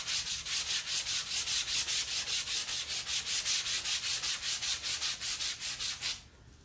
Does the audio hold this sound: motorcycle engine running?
no